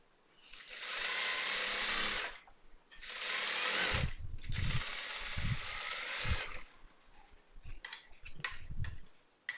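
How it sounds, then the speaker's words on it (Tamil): Several bursts of a sewing machine stitching chudithar lining fabric, the first two brief and the third longer, followed by light clicking and handling of the cloth. "வச்சு இப்படியே தையல் போட்டுவாங்க."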